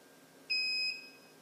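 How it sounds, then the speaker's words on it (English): One short, high-pitched electronic beep sounds from an LTech T4 controller during a zone reset, a clear tone of about half a second, close by in a quiet room. "That's the first beep."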